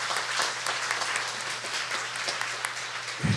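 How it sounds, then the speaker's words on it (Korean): A Korean church congregation claps together during a 40th-anniversary thanksgiving service, sustained scattered applause filling the room over a low steady hum before breaking off abruptly at the end. "우리 하나님께 영광의 박수 올려드리겠습니다."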